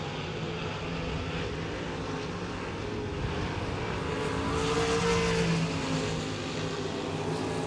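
Race cars in a speedway heat race at 81 Speedway, a steady distant roar of engines that swells louder toward the middle as the field passes, with no talk.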